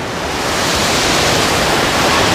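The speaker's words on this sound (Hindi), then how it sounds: "तो गाइस जो ये पानी बह रही है, तो ये दासम फल की मतलब ऊंचाई 144 फीट से नीचे पानी बहती है" Dassam Falls near Ranchi, with water plunging 144 feet, gives a dense, steady roar of falling water, loud and close, with no break and no voices.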